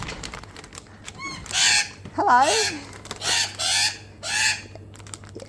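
Backyard chickens give a run of loud, close clucks and squawks in several bursts, with one longer warbling call, while a person briefly speaks a greeting.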